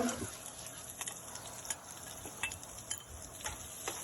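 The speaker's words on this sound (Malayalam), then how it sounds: "സവാളയും നന്നായിട്ടൊന്ന് വഴറ്റിയെടുക്കാം" Onions and curry leaves sautéing for a chicken stew: a steady close sizzle with scattered light scrapes and ticks as a utensil stirs through the pan.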